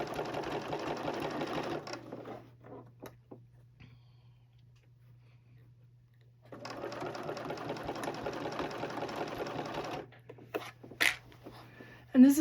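A sewing machine stitching binding onto a quilt runs in two steady bursts of close, rapid whirring, separated by a quiet pause with small handling noises and a low hum.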